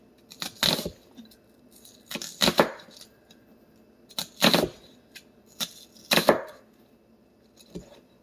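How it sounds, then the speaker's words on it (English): A knife chops onions on a table in slow, deliberate runs of two or three crisp, close cuts, with pauses between each run and no talking. "got the onions cut"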